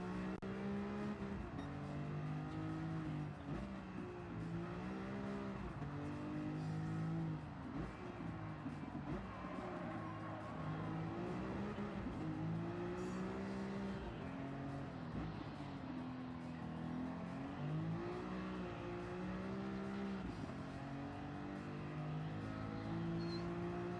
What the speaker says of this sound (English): It's the Mustang. Sorry, it's the Shelby.